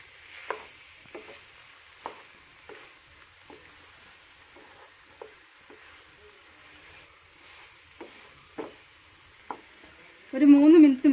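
Banana pieces cook in a pan while being stirred, giving sparse, soft scraping taps at irregular intervals over a quiet background, with a brief burst of a voice at the very end.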